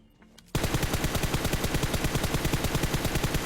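Automatic gunfire in the video game PUBG starts abruptly after a short quiet moment and continues as a loud, rapid, evenly spaced stream of shots with no speech over it.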